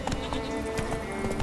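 Hooves of Roach, the horse in The Witcher 3 game, clip-clop at a quick, steady trot, close and fairly loud, with no talk over it.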